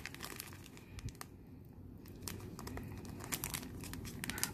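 Dragon Ball Super anniversary foil card packs crinkle and tear close to the mic, with quiet irregular crackles and ripping strips of foil wrapper over several seconds.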